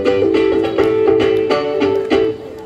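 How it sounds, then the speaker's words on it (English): A banjolele, a cross of banjo and ukulele, is strummed in a bright, twangy, rhythmic pattern of repeated chords, close and fairly loud, with no voice over it. "I'm going to play a rather silly musical instrument by the name of the banjolele."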